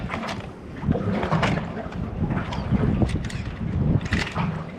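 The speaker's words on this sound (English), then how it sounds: "It seems a little bit windy" Gusty wind buffets the microphone in rough, rumbling bursts, with water sloshing nearby outdoors.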